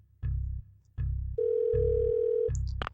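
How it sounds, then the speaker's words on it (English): An emergency phone in the video game Parasite Eve 2 gives a low, pulsing telephone tone in regular bursts with a steady higher tone held over the middle, followed by a short electronic chirp at the end. "An emergency phone. I can probably use this to call Mist."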